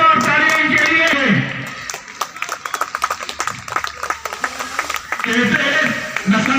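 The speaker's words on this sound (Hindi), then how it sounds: "जोरदार तालियां इनके लिए।" Audience at a cultural programme at Pritam Stadium in Poonch applauding performers, a few seconds of scattered, crackling handclaps rising between stretches of amplified announcer talk, with music-like tones at the start and end.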